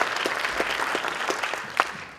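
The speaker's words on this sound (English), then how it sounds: "So Mr. Hadley, round of applause for him." Audience applause at a school presentation for Compass Academy, a moderate, steady spread of many hands clapping in a room, fairly even throughout and tapering slightly at the end.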